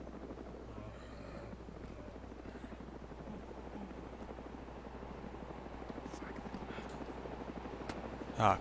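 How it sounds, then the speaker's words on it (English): A helicopter in the video game DayZ (Arma 2) approaches with a steady rotor chop and engine drone that stays constant and fairly prominent throughout, growing slightly louder near the end. "Ah, crap, chopper."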